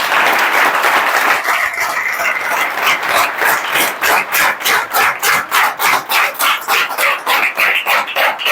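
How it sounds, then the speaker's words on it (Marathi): An audience at a felicitation ceremony for a newly selected police recruit bursts into loud, dense applause that settles into rhythmic unison clapping with even, regular beats. "जोरदार टाळ्या."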